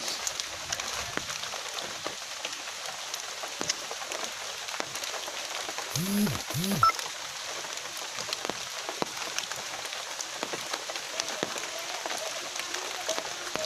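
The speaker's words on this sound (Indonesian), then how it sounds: "Ini adalah hujan." Steady, faint rain patters on a surface outdoors during a fishing outing, with a continuous soft hiss and scattered drips and a brief low sound midway.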